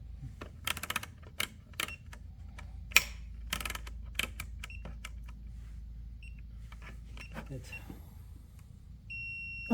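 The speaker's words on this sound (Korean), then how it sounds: "여기 지금 통하면 이렇게 삐 소리가 납니다" Scattered clicks and taps of multimeter probes being handled on a Hyundai Kona or Ioniq electric drive motor during insulation and winding resistance testing, a brief high electronic chirp midway, then a steady continuous continuity beep at the very end.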